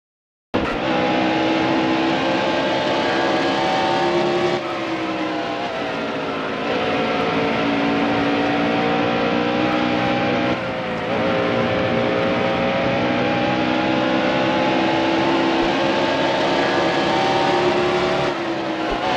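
Race car engines roaring in the NASCAR Heat Evolution video game, a loud sustained drone with shifting pitch as cars rev and change gear, steady throughout and alone without talk.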